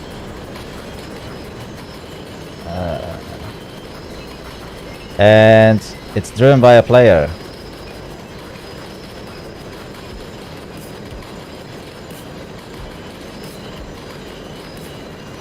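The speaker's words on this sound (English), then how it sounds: "I can hear a train in here, chat." A train passes in the SimRail railway simulator game, with two loud bursts of a horn-like tone over a steady rumble. A person talks over the sound.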